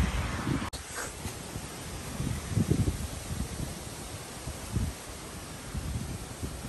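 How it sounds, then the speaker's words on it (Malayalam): Outdoor wind gusts buffet the microphone in soft, irregular low rumbles over a faint steady rustle, with no one speaking. "It's windy."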